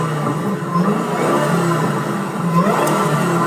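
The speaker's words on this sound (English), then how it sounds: "The supercharger sounds great." A supercharged Ford car engine revs on a race track, a loud, steady mid-pitched roar with a rising climb in pitch near the end, heard up close with no talking.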